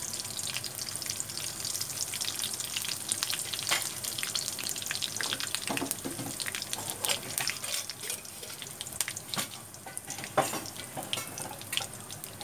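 Curry leaves, cumin and mustard seeds sizzle and crackle in hot oil, a continuous bright hiss with scattered sharp pops and spits, close by and steady, no voices.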